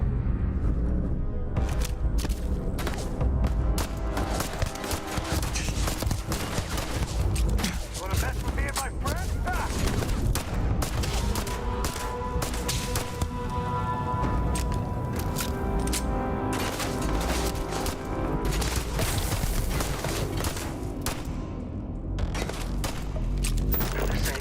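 Rapid bursts of gunfire crackle through a long firefight in Starfield, with dense repeated shots and impacts, brief pauses and continuing volleys over a low background rumble.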